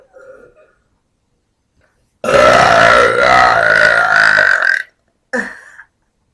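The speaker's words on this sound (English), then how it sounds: "It's like a marathon of burps." A woman lets out one long, loud, drawn-out burp lasting several seconds, then a short second burp after a brief pause, with a faint sound just before; no talking.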